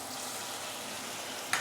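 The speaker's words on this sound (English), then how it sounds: "sauteing the tomato and also tomato sauce" Tomato and tomato sauce sauté in hot oil, making a soft, continuous frying sizzle, fairly quiet and steady, with a brief sharper crackle near the end.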